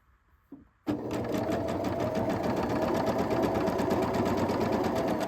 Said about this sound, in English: I'm going to sew, line it up so it's straight, and then I'm going to sew this one